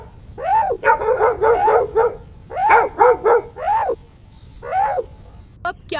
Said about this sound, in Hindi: हाँ चीकू, ये इंसानों का कुत्ता है। इसे हम चौकीदार कहते हैं